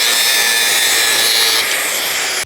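A hand saw trims a piece of wood for a tiny home base in one loud, steady rasping stroke run, close and alone, cutting off abruptly at the end.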